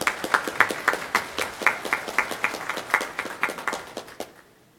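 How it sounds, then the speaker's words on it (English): Applause at a county Republican Party endorsement meeting, a small group clapping in a quick, roughly unified rhythm of distinct claps, fairly close, then stopping abruptly into near silence at the end. "Let's give a round of applause"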